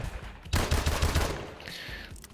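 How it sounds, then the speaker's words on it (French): Rapid bursts from an M1 pistol in a game, several quick close shots in a fast rhythm, followed by a fading higher ringing tail. "Alors les avantages c'est qu'elle tire très rapidement."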